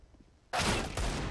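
Sudden loud burst of gunfire, including Desert Eagle pistol shots, in a Counter-Strike match, cutting in after a quiet moment and continuing as a dense, close volley.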